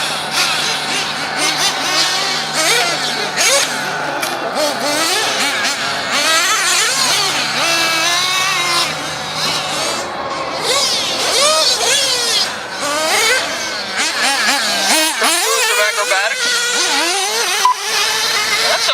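A race car with a failing, slipping clutch at a night race, its engine droning loudly and revving in rising and falling sweeps as it passes, under continuous crowd and track noise.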